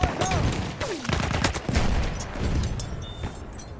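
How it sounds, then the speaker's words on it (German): Dense, chaotic gunfire and booming blasts fill a Battlefield 1 multiplayer Rush match on PS4, with a grenade explosion among rapid overlapping shots, whistling projectiles and constant loud battle noise throughout. "Granate ist raus! Köpfe runter!"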